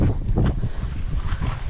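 Strong wind gusting across an exposed hilltop at Lohagad Fort in Maharashtra, India, buffeting the microphone with steady low roaring rushes and a few louder swells.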